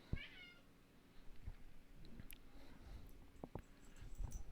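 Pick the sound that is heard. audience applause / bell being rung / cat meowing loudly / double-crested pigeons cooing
cat meowing loudly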